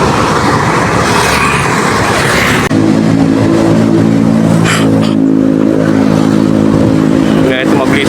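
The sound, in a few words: electric FUV car passing on the road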